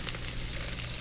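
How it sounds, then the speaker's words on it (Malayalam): Ginger dropped into a frying pan of hot oil with garlic and crushed cardamom for a Kerala fish molly sets off a brief, steady, close sizzle. "ഇനി ഇതിലേക്ക് ഇഞ്ചി ചേർത്ത് കൊടുക്കുകയാണ്."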